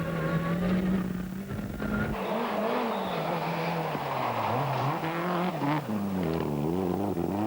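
Onboard in Gwyndaf Evans's rally car at the 1995 Rally of Wales, the engine roars loud and close, its pitch climbing and dropping through gear changes and lifts, with a brief tire squeal on the stage.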